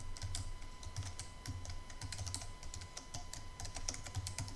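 Rapid keystrokes clatter on a computer keyboard, close and continuous, with uneven clusters of key presses over a low steady hum.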